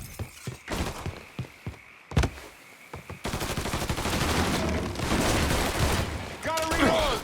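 Gunfire in the video game Mafia 3, starting with a rapid series of sharp individual shots and a loud crack, then a dense sustained barrage mixed with shouting voices and clatter.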